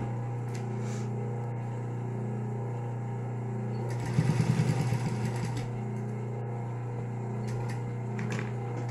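Sewing machine topstitching fabric bias binding over a fresh seam on a quilted patchwork pot holder, a steady mechanical hum that swells into a louder burst of rapid stitching mid-clip, then drops back to a low idle.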